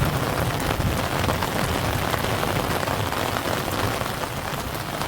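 Steady monsoon rain pours down outside a house with freshly mud-plastered walls, a dense even hiss with fine drops spattering close by, continuous and unbroken for the whole stretch with no voices.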